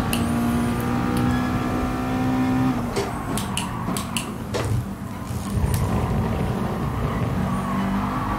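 A race car slides in Gran Turismo Sport, its engine droning steadily while tires scrub and squeal, followed by a cluster of sharp clicks and knocks and a rougher, fluctuating engine note.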